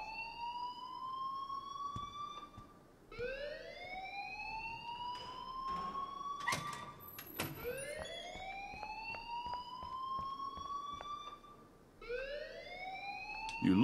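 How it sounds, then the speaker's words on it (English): A repeating rising-and-falling siren wails through a school hallway in the video game Life is Strange, sweeping up in long cycles several times at moderate, steady volume, with no one talking. "please turn off that alarm since that's your job"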